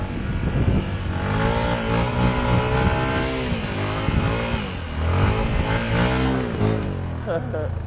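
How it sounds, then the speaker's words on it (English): Dirt bike engine revving hard and wavering in pitch as the wheels spin and slip climbing a loose gravel hill off-road, loud and continuous, with a rider's voice over it. "That's how your wheels spin up a hill."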